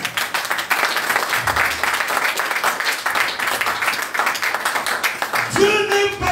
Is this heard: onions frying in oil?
no